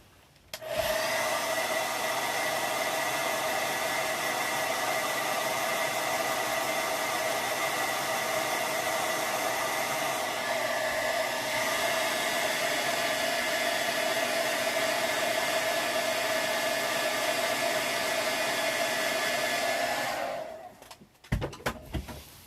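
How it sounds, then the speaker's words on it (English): Hair dryer drying paint on a sunflower banner, blowing as a loud, steady airy whine held close for about twenty seconds before switching off with a few handling clunks. "grab the hair dryer, and I'll try not to get it too close to the"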